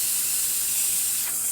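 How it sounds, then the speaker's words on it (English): An ECM Mechanika espresso machine's steam wand hisses steadily and loudly, a strong, unbroken spray of steam with no pauses. "I'll show you that steam"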